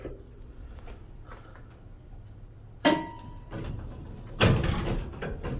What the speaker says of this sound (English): It's a pretty fast door.